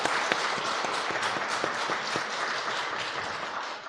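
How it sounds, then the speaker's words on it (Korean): Church congregation at a Sunday morning worship service gives a newcomer a round of applause: steady, moderately loud clapping with distinct individual claps, continuing throughout and easing slightly at the very end. "박수로 환영하겠습니다"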